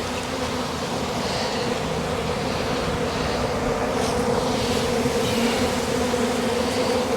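A honey bee swarm clustered high in a tree drones loudly and continuously, a thick, close mass of buzzing wings with slight swells in intensity and no speech.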